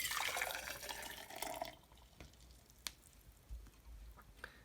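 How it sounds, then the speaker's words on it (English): Hot water poured into a cup on a scale, a bright splashing stream for under two seconds, then quieter trickles, a few drips and small knocks as the lid goes on. "then we'll put the hot water in"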